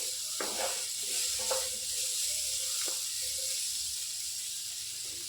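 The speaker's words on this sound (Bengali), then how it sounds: "এরপর লবণ আর গোলমরিচের গুঁড়ো দিয়ে আমি আবার কিছু সময় সবগুলো উপকরণকে একটু ভেজে নিচ্ছি ভালো করে" Maggi noodles and other ingredients fry in a pan with salt and pepper, a soft continuous sizzle with a few faint clinks and scrapes early on, fairly quiet and without talk.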